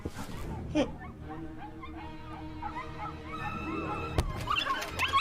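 Puppies whimpering and yipping in a rapid string of high, wavering cries close by, several animals overlapping, with a brief louder yelp near the start and a bark near the end.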